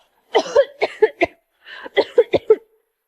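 A woman coughs in two short fits, each a cluster of four or five harsh bursts separated by a brief pause, close and fairly loud in an otherwise quiet room.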